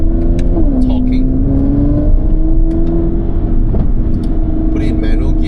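A car engine revs while driving in manual gear, dragging the gears with a flat shift: a loud, steady motor drone whose pitch drops briefly at a gear change, close and continuous.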